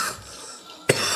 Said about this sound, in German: ich muss gleich noch husten